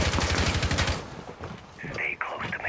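Automatic gunfire in a Rainbow Six Siege team deathmatch on the Villa map rattles through the first second, followed by quieter scattered noises and a brief whistling tone, with faint voice activity underneath.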